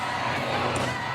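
A wrestling-event crowd roars and chants in unison, a brief, dense burst of massed voices filling the space.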